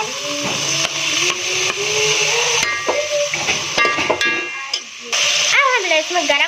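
Chopped onions and tomatoes fry in a pan for a palak aloo sabji, giving a steady sizzle with stirring clatter and scraping. A faint voice or tune drifts in the background near the end.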